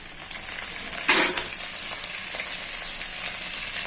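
Steady, bright sizzling of mustard seeds and cumin frying in hot oil, with a brief louder crackle burst early on, continuous throughout with no talking.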